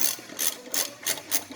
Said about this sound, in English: Air tools are cool.